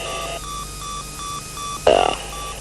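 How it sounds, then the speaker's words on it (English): A Pilatus PC-9 stall warning beeper sounds in a regular run of short electronic beeps over steady cockpit hum, interrupted near the end by a brief louder burst of noise. "There's the beeper."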